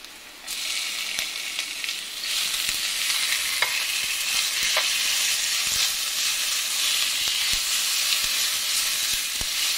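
Chicken pieces fry with onions in a pan, giving a loud, continuous close sizzle that swells after a quiet start, with occasional clicks of stirring and no voices.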